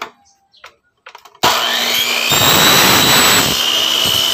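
A blade cutter scores a sliding window's perimeter frame, a loud, continuous harsh grinding-whine that starts abruptly after a few quiet taps and runs steadily at close range.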